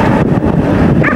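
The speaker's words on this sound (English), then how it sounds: "Wild dogs are one of many dangers that appear out of the night." Wild dogs bark at night near a military convoy on a roadside, a few muffled barks and yips buried under loud, steady wind and vehicle rumble.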